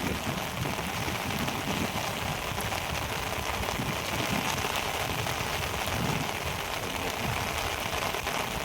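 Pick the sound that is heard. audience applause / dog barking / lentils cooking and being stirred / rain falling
rain falling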